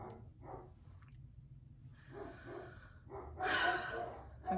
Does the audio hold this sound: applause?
no